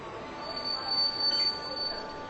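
A train's wheels squeal in a long, high metallic screech over a steady rumble as it slows to a stop at a railway station, loud and continuous throughout.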